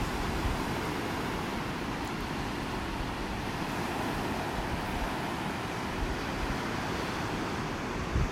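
Steady wind and rolling surf on a beach in North Naples, Florida: a continuous, loud roar of breaking waves mixed with gusty wind buffeting the microphone, with no voices.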